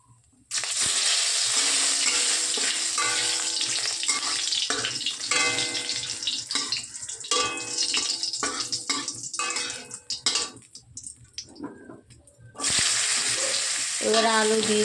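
Dried red chillies and a bay leaf dropped into hot oil, a sharp burst of sizzling followed by irregular crackles, clinks and scrapes of stirring, then a strong steady fry again near the end.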